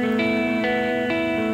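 Electric guitar with a twangy, reverb-soaked tone, strummed chords struck roughly every half second and ringing out in stereo.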